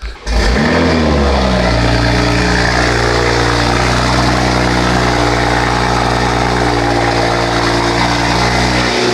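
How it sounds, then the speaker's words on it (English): A Toyota Supra's engine cranks and catches on a cold start, then settles into a loud, steady, throaty idle that continues for several seconds close by. "let's go get a cold start"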